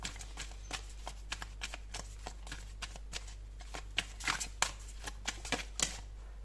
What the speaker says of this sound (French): On va prendre 3 cartes également avec ce joli oracle.